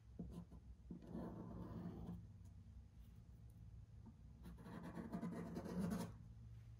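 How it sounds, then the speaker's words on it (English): Dried glue being scraped off wood, two close, quiet rasping scrape passes separated by a pause, with a low background hum. "So I'm just gonna scrape it off."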